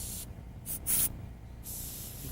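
An airbrush sprays paint in short hissing bursts, with a few breaks and one louder spurt near the middle, close up. It is used on advanced animal artwork, with an X-Acto knife held in the other hand.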